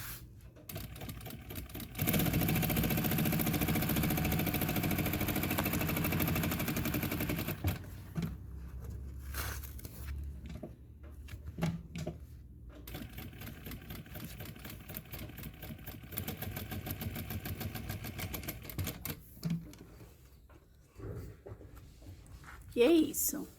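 Sewing machine stitching a synthetic leather shoulder bag, a loud continuous mechanical whir for several seconds, then shorter bursts of stitching separated by pauses, with a person talking in between.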